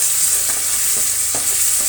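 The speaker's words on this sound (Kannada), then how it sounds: "ಸ್ವಲ್ಪ ಫ್ರೈ ಆಗಬೇಕು ಹುಣಸೆ ಹುಳಿ." Tamarind paste for puliyogare gojju fries in a pan with a constant hiss, while a spoon stirs it with a few soft scraping strokes.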